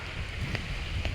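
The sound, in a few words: strong wind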